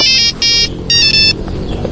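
A phone ringtone plays in two loud, bright bursts separated by a short gap, repeating electronic tones ringing clearly over a faint background, with no voices.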